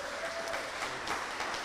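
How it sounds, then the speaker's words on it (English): Audience applause at a Small Business Week panel, dense and continuous clapping from a crowd with a faint voice underneath, filling the whole short moment at steady loudness. "Round of applause for our moderator today, everybody."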